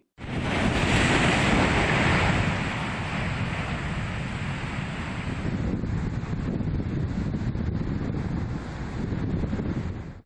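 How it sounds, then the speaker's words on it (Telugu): Loud, continuous roar of sea waves surging and crashing, heavy and rumbling, with a wind-blown rush and no voices. "సముద్ర ఉధృతికి ఎగిసిపడుతున్న అలల నుంచి రక్షణగా"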